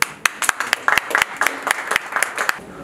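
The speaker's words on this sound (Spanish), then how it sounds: "muchas gracias, un aplauso" Applause from an audience at a networking meetup in Blue Island, Chicago: a fairly small group clapping in sharp, uneven bursts for about three seconds, with a voice speaking lightly underneath.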